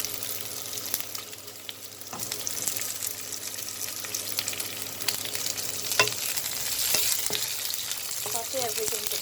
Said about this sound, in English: Saute everything together for a minute